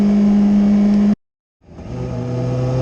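Triumph motorcycle ridden hard on a track day at Barber Motorsports, its engine holding a loud steady tone, cutting out abruptly for a moment, then returning and building again.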